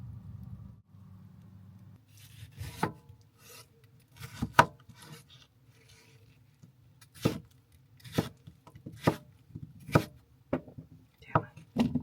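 A knife scrapes and rasps against a vegetable as it is peeled by hand rather than with a peeler, in a run of irregular, close strokes separated by short pauses, over a low background hum.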